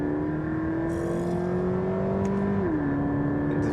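An automatic Subaru BRZ engine climbs steadily in pitch under acceleration, then drops sharply as a paddle-shift gear change goes through, and the rising drone continues inside the cabin.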